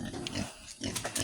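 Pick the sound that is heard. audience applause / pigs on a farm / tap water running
pigs on a farm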